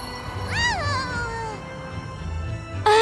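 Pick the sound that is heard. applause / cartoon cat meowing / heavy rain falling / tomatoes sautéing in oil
cartoon cat meowing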